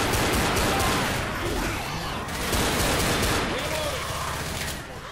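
Pistol shots ring out in the Left 4 Dead zombie shooter, a dense run of loud gunfire and blasts over noisy game action, with a voice talking underneath.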